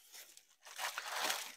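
A colourful plastic shipping bag from AliExpress, holding a mini thermal printer, crinkles and rustles as it is handled close by, starting soft and swelling into a louder, continuous crackle with no voices.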